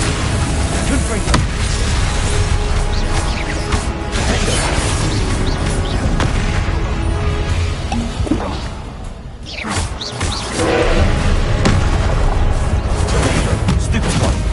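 Confringo explosion spells in a Harry Potter video game, with repeated whooshing blasts and crashing booms that layer into a dense, loud, continuous wash of spell effects, briefly dropping near the middle.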